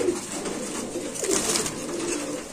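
Pigeons cooing at a bird market stall where pigeons are sold, a low repeated coo over steady background hubbub, fairly close and moderate in level.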